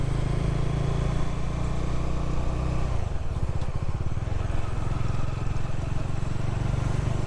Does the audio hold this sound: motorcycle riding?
yes